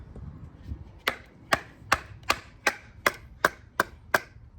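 A custom Wyatt Hines Heartstopper knife batons through hard, dry old wood in nine sharp, evenly spaced chopping strikes, each a crisp close knock with no talking.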